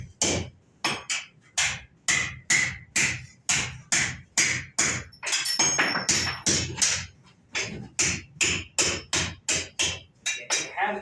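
A blacksmith at a historic village forge hammering metal over the horn of an anvil, a long run of sharp, ringing strikes in a steady beat with brief pauses, close and loud.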